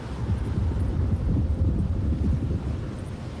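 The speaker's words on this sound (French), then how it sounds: "Il y a beaucoup de vent." Low, rumbling wind buffeting a microphone, a continuous blustery roar with no voices.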